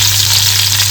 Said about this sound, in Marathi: इकडे फोडणीसाठी ना सर्वात पहिले 1 चमच राई घालून घेतोय